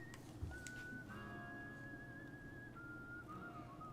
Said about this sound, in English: They got a real person to do the whistling